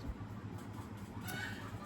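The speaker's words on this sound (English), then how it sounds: "So Steve, you hear that sound? The chickens, and then you'll hear the goats and the cows" Chickens cluck softly in the background on a farm with goats and cows, a steady low murmur of fowl sounds against faint outdoor ambience, no talking.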